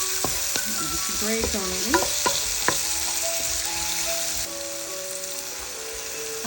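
Chili oil sizzling and crackling in a hot pan while squid fries, with a steady bright hiss, a few sharp pops and stirring clatter, and a voice speaking briefly near the start.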